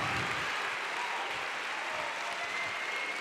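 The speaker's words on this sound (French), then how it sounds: "Vous pouvez les applaudir." A short burst of audience applause at a music jam session, a fairly faint, even wash of many hands clapping at a distance, sustained without a clear start or finish.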